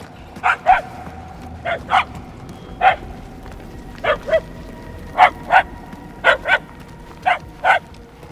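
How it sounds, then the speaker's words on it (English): A dog barks repeatedly in short pairs and singles in the video game Guardians of the Galaxy, fairly close and clear, with brief pauses between the barks over a quiet background. "The barking is getting fainter."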